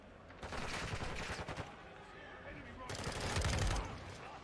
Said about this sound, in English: So this is an M4 he's using right now, but with the SMG receiver on it.